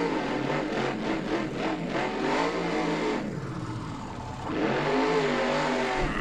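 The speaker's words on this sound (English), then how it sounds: "He turns back on his engine." A monster truck engine in BeamNG.drive revs hard and close, rising and falling in surges with a brief dip before climbing again, with no talk over it.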